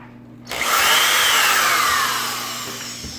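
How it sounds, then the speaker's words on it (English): Power drill boring a hole through a kitchen cabinet door for a knob, a sudden whine that rises and holds close and loud for a few seconds before easing off, with a low steady hum underneath. "Drill on through."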